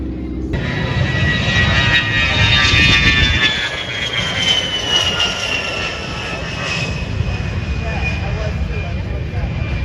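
An airplane roars low and loud past the crowd at a North American air show, its engine tone sweeping downward as it passes, with an announcer talking over the start.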